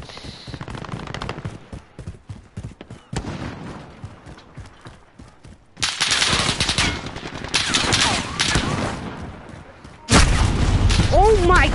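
Video game gunfire during a match where the player is sniped, rapid automatic bursts and sharp cracks in shifting loud volleys, with voices talking over parts of the shooting.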